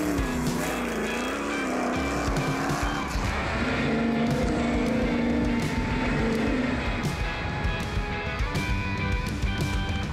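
A 1200-horsepower sand rail roars up a steep sand dune of about 45 degrees, its engine loud and close, climbing and wavering in pitch over a constant rough din of churning sand.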